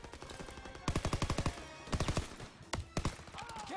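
Gunfire in the World War II shooter game Call of Duty: WWII during a Normandy battle, rapid machine-gun bursts and rattling volleys in quick clusters over a battle din.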